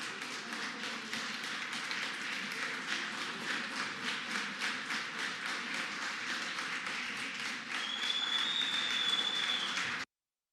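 Members of parliament rise to their feet and applaud in a chamber, a steady, dense clapping that runs unbroken for about ten seconds, with a thin tone rising briefly near the end.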